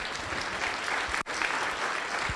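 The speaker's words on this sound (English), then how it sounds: "Let's give them a round of applause." Applause from the audience at a State of the City civic event held in an event space, a steady dense wash of clapping with one brief dip midway, no talking over it.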